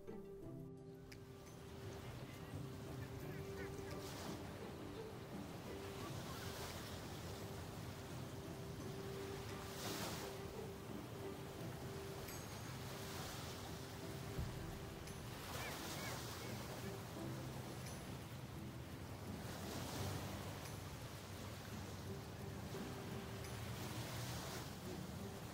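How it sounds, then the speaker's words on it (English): Ocean waves roll onto a rocky shore in New York City, a steady roar of surf that swells every few seconds with a faint tonal hum underneath. "I'm going to let you enjoy the sound of the waves"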